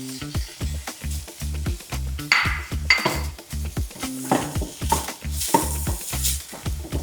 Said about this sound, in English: Keep it on low flame and we'll start cooking a little onion, a little ginger also